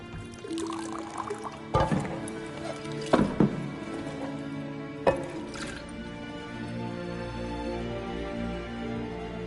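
A drink is poured into a cup in a tavern scene in the Witcher 3 video game, a gurgling pour running under sharp clinks and knocks, with a steady musical drone underneath.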